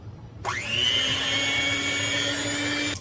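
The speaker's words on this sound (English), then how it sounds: "I always like to mix it again with this mixer." An electric mixer whirs into action, spinning up with a rising pitch and then holding a loud, steady high drone as it stirs liquid in a container, close and uninterrupted.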